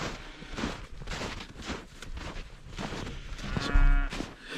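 A beef cow in a winter calving herd moos loudly and close by, one long drawn-out call over faint background noise.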